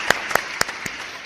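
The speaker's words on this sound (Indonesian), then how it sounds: "Oke, tepuk tangan dulu." A handful of sharp, separate hand claps ring out from an audience during an Indonesian discussion on tolerance and national division, four or five crisp claps spread unevenly over about a second.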